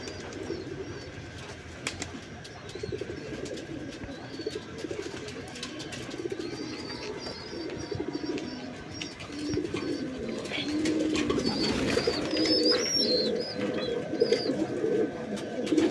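Pigeons coo steadily in a low, rumbling chorus while nesting and laying eggs indoors, with faint chirps and scattered clatter layered over the cooing.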